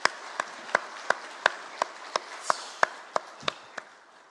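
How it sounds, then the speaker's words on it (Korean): A church congregation at a Korean Sunday worship service claps together in steady unison, about a dozen sharp, evenly spaced claps over a quiet room, with no talking. "하나님 앞에 박수의 영광 돌리겠습니다"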